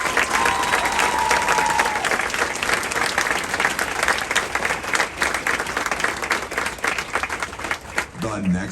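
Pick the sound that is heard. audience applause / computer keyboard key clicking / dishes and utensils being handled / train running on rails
audience applause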